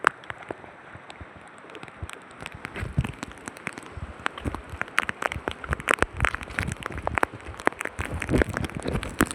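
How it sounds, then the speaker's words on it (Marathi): Rain falling beside a river, steady patter of dense drops with sharp crackly spatters throughout, fairly close and continuous, no voices. "पाऊस पडते मित्रांनो."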